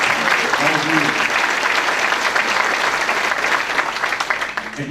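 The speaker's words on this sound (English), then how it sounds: "So big round of applause for these 2 groups of guests right here." Steady, dense applause from an audience at an event honoring two tables of guests, loud and sustained for the whole stretch with a slight easing at the end.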